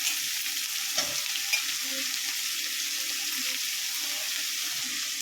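Chopped onions and chayote sizzle steadily in a hot pan, a continuous close frying hiss with a few faint stirring knocks, and no talking over it.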